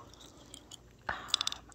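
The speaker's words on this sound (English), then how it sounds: "gum chewing actually, which is extremely highly requested on my channel" Gum chewing for ASMR sounds close and quiet, with soft wet smacks that turn into a quick run of crisp clicks near the end.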